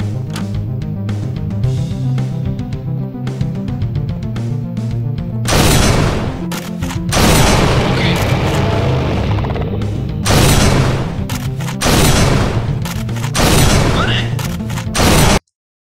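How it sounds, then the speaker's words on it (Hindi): A hunting rifle fires in the horror game The Crawler: several loud, booming blasts come at irregular intervals over a constant rumbling game soundscape, with the last one cutting off abruptly into silence. "मैंने उसे 3-4 शॉट्स मारे हैं, वो मरा ही नहीं है।"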